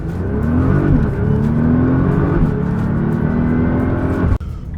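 A 2008 Nissan GT-R R35 accelerating hard from 0 to 100, loud close engine roar climbing through the revs with audible gear shifts, then cutting off abruptly near the end.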